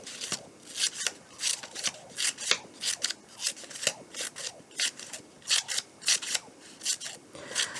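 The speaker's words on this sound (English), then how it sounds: "Cutting cool little strips into my paper, but not cutting it all the way." Scissors snip a series of short cuts into a sheet of paper for a craft project, crisp separate snips coming in quick irregular bursts, close and clear with no talk.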